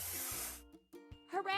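A cartoon spray can paints over discoloration on a house under construction, a short hissing spray burst followed by bright, chirpy cartoon sound effects.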